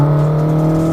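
A Toyota AE86 engine revs hard toward 7,500 RPM, holding a loud, steady high-pitched drone for about a second, close and alone.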